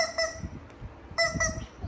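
Two short bursts of honking chicken calls, nasal and harmonic, close by with a brief pause between them.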